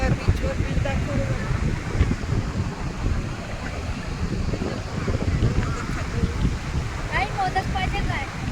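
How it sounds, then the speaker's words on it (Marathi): Strong wind gusts across Diveagar beach in Konkan, a steady loud rumbling roar buffeting the microphone, with surf hissing underneath and faint voices in the background. "वारा खूप सुटला, बीचवर बीच दाखवलं"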